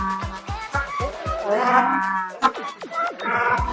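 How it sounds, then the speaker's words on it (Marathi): Loud, nearby braying calls of penguins at a zoo, a series of harsh rhythmic honks rising and falling, repeated several times in quick succession. "हा जो आपण आवाज ऐकतोय हा पेंगुईन पक्षाचा आवाज आहे"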